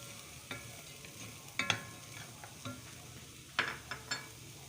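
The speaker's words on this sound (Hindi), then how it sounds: "अब हम इसमें गोभी शामिल करेंगे और इसको भी अच्छे से फ्राई करेंगे" Cauliflower pieces stirred and fried in a pan for vegetable kababs, a soft sizzle under a few sharp scrapes of a spoon against the pan, close and fairly quiet.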